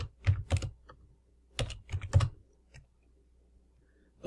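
Fingers typing a password on a computer keyboard, a short run of soft clustered key clicks with brief pauses, close and quiet.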